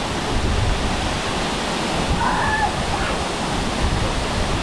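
Horsetail Falls in Oregon's Columbia River Gorge pours as a steady, loud broadband rush of falling water, continuous and close with no talk.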